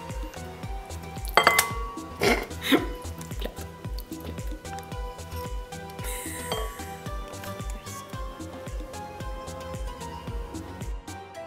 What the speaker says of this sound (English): So in a small to medium bowl, we're going to put our pumpkin, melted butter, brown sugar, and spices.